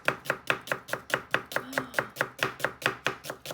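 A knife chops food quickly on a cutting board while a tomato pasta is prepared, about fifteen crisp, evenly paced knocks in a steady rhythm, close and alone with no talking.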